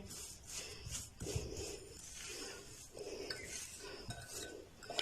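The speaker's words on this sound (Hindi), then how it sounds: "मसाले को अच्छी तरह इस तरह उल्टी चम्मच के साथ मसलेंगे ताकि अच्छी तरह ये पेस्ट की शक्ल में आ जाए" A spoon's back pressing and mashing a spice mixture into paste in a bowl, repeated scraping and rubbing strokes with light clinks, close and rhythmic, roughly one stroke per second.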